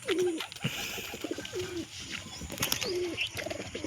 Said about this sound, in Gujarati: જો મિત્રો આ કબૂતર આવી ગયું છે.